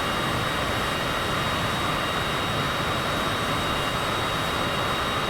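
A Cessna's engine drones in a flight simulator game during low-level flight, a steady, dense wash of engine and wind noise with no voices over it.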